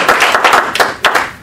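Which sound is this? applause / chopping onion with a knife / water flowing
applause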